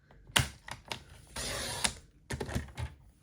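Small snips cut around a printed Christmas card sentiment, taking short irregular chops close to the mic. A few crisp clicks are followed by a brief scraping stretch and then more quick cuts.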